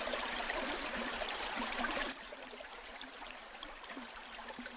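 Water gushes steadily into a village well, a continuous broad rushing that drops slightly in level partway through and then carries on evenly.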